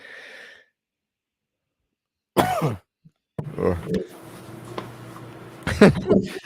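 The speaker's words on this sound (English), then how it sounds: "I lost my train of thought coughing" A couple of sharp coughs or throat-clearing bursts break the quiet, followed by a person starting to talk.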